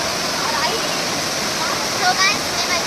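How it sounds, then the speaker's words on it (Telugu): Elephant Falls waterfall in Meghalaya pours in a steady, dense broadband roar that stays loud and close throughout, with faint voices in the background. "మేమైతే మేఘాలయలో ఎలిఫెంట్ ఫాల్స్ దగ్గర వచ్చాం"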